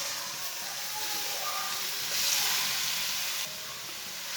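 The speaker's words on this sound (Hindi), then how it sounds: "आधी प्याली ऑयल को 1 मिनट तक गर्म कर लेंगे। ऑयल हमारा गर्म हो चुका है। कद्दूकस की हुई गाजरें डाल लेंगे।" Grated carrots sizzle and fry in hot oil, giving a steady close hiss that swells slightly partway through before settling back, with no talking.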